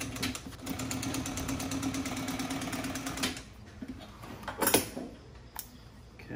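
A sewing machine runs a single top stitch down the center of folded motorcycle seat material, giving a rapid, even, close-up chatter for about three seconds, followed by a few scattered clunks and handling knocks.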